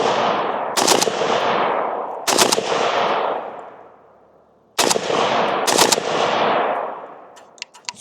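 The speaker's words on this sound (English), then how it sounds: "let's see if we can do this control burst on some targets out there about 20 yards or so" A rifle fitted with a Diablo trigger fires loud, rapid controlled bursts at outdoor targets about 20 yards away, several separate strings of quick shots, each trailing off in a long echoing tail.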